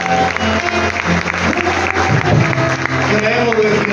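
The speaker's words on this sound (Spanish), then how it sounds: "Denle un fuerte aplauso al Señor." A church congregation applauds loudly and steadily, with a dense wash of clapping and voices throughout.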